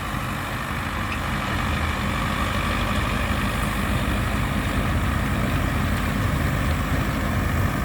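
A heavy tractor engine runs steadily and loudly nearby during hay making, a dense continuous rumble with no pauses or talking.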